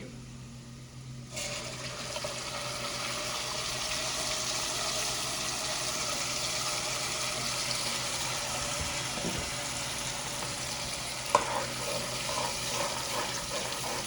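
Gravy sizzles steadily with golden brown onions frying in a pan, a continuous loud hissing wash with a brief clatter near the end.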